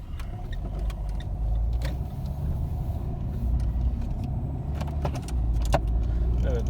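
A car pulls away smoothly after a flywheel and clutch repair, its low engine rumble steady and close, broken by a few sharp clicks and rattles inside the cabin.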